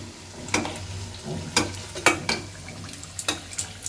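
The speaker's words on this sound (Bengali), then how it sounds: "বেগুনের চপগুলো একটু লাল লাল করে ভেজে নেব" Eggplant chops frying in hot oil, with a soft steady sizzle under intermittent stirring clatters and scrapes, close and moderately loud, no talk.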